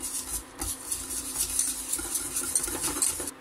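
Butter being stirred as it melts in a pan while a lemon-cake batter is prepared, a steady run of soft scraping strokes and light utensil clinks against the pan, close and moderately loud, with no voice.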